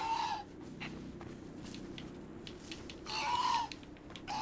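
Chickens in the video game Conan Exiles give a few loud, drawn-out clucks, with quieter scattered clucking and game ambience between them.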